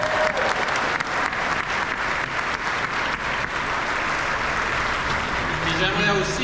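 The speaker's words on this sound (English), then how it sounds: "So can we just applaud Simons for all that they've done right off the bat?" Audience applause for Simons at the opening of La Maison Simons at Yorkdale Shopping Centre, a loud, dense, continuous clapping from a large crowd that holds steady throughout, with a few voices mixed in.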